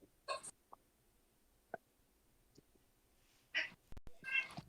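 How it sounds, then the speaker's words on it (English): A dog and a cat fighting, heard as a few short, sharp cat yowls and squeals in scattered bursts with quiet gaps between, fairly faint and with no talking. "That's the dog and the cat fighting."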